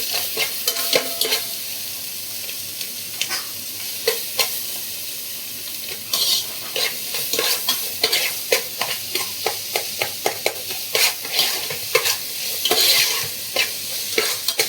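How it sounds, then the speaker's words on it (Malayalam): Onions for mutton curry fry and sizzle steadily in a pan while a utensil scrapes and stirs them in frequent irregular strokes, close and moderately loud, with no talking. "സവാള ബ്രൗൺ കളർ ആവുന്നിടം വരെ നമ്മളിത് മിക്സ് ചെയ്യണം"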